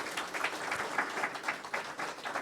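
An audience claps together at a church service, a soft, steady patter of scattered hand claps that sounds somewhat distant and continues at an even level throughout.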